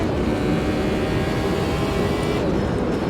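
F1 Gen 02 car in Automobilista 2 braking and downshifting into fourth gear at Jacarepagua, a loud, dense engine roar that holds steady before shifting pitch near the end.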